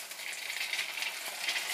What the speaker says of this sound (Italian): Ora portate l'olio a temperatura e adagiate dentro i lumaconi.